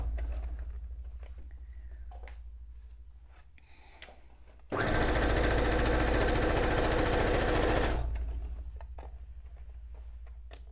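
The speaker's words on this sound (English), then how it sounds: "I can do that after I sew my straight seam." A sewing machine stitches a straight seam, its motor kicking in abruptly and whirring at a steady fast rate for about three seconds before stopping, loud and close against a quiet room with a low hum.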